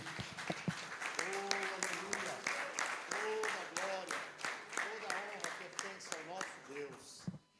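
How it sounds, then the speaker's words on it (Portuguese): Congregation clapping at a church service in Brazil, a steady run of handclaps with voices and singing over it, fading out near the end. "Vamos aplaudir o nosso Deus, Ele é digno."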